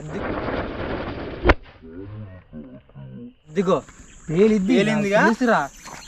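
A firecracker bomb, one of several being tested, bursts with a single sharp, loud bang after a stretch of hissing noise, followed by excited voices talking.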